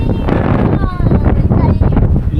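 Strong gusts buffet an outdoor microphone on a windy roadside stop, a loud, continuous low rumble with rapid flutter that hardly lets up, with voices faint beneath it.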